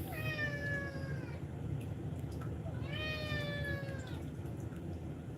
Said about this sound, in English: and then I get on camera and you start meowing.